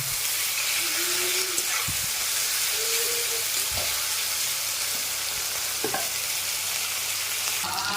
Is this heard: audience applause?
no